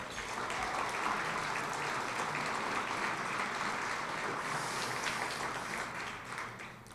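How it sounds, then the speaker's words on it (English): Audience applause for innovation champions at an awards ceremony, a steady even wash of clapping, distant and fairly faint, sustained throughout. "Can we have a round of applause for our innovation champions?"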